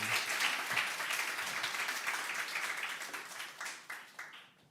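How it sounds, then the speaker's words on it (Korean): A church congregation applauds, with dense, loud clapping from many people that thins out and fades as single claps trail off toward the end. "원래 방금 이 박수 소리와 함께 끝내려고 했거든요"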